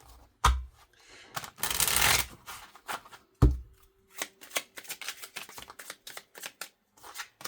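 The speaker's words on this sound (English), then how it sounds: "Give these a good shuffle." Tarot cards are shuffled up close: a long riffle, a couple of sharp taps, then a run of quick light flicks and shuffles, with no voices.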